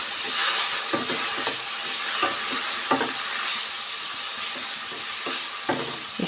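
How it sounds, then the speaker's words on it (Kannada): Coconut and coriander leaves frying together in a pan for tomato bath, a loud close sizzle with periodic stirring scrapes of the spatula against the pan. "ಎಲ್ಲ ಸೇರಿ ಫ್ರೈ ಮಾಡ್ಕೊಳ್ಳೋಣ."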